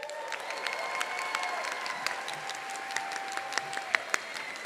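Applause rises from a crowd at a Clayton State University fall commencement ceremony, soft and distant, a steady wash of clapping with a few sharper claps standing out, lasting under five seconds.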